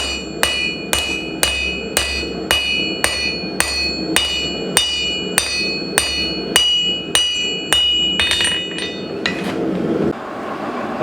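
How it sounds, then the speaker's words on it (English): Steady hammering on metal stock to texture a custom bar footrest, around sixteen bright ringing strikes in an even rhythm, close and loud, ending with a few quicker taps. "Just giving a little bit of hammer texture."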